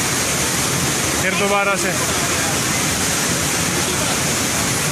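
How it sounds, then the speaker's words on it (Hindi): The Masoori Bhatta waterfall in Uttarakhand roars from inside the fall as a loud, unbroken rush of water, with a voice speaking briefly over it. "वाटरफॉल के अंदर बैठे हुए हम"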